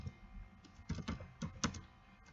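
A computer keyboard is typed on in a short, uneven run of soft keystrokes, fairly close and quiet, with no talking.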